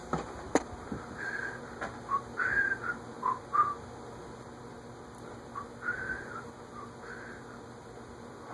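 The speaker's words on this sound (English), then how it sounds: "I didn't realize I was whistling" A person whistles a tune indoors beside a Fanimation Islander ceiling fan, model FP320AB1, with short melodic phrases repeated in bursts over a steady low background hum.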